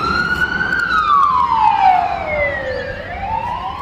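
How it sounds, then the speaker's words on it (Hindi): Ambulance siren on a street in Perth, a loud wailing tone that sweeps down and back up as the vehicle passes nearby, heard over traffic noise without speech. "ये क्या हो गया, पुलिस? ओ नहीं, पुलिस नहीं,"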